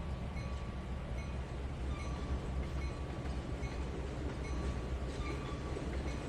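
Train shunting backwards in the Trainz 2019 simulator on a Tidewater route, a steady low rumble of rolling wagons with faint clicking and a thin whine, continuous and unbroken, without speech.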